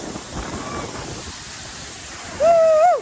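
Steady broadband rushing of a Tamil Nadu waterfall mixed with wind, joined near the end by a loud, sustained voice-like tone.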